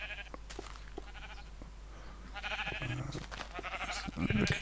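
Repeated sheep bleats from Minecraft with a game-like, synthetic quality, fairly close, over a steady low hum and faint clicks, growing busier toward the end.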